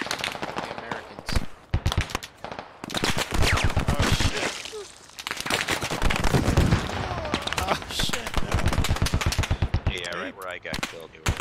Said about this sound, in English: They're shooting from multiple directions.